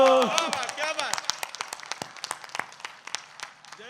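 At a religious discourse gathering, an audience claps after a poet's recitation, a voice trailing off at the start before scattered sharp claps thin out into sparse, irregular hand claps.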